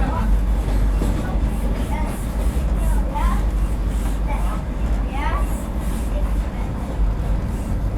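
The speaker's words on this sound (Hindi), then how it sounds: "एक बगल से ये क्रॉस हो रही है हटिया पटना पाटलिपुत्र एक्सप्रेस।" The Hatia Patna Patliputra Express passes close by, heard from aboard a Vande Bharat train as a steady rumble with rhythmic clickety-clack over the rails. Voices talk faintly over the noise.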